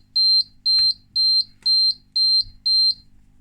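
A Gasminder EI1 carbon dioxide detector sounding its alarm: six loud, evenly spaced high-pitched beeps in quick succession, each about a quarter second long, with faint handling noise between them.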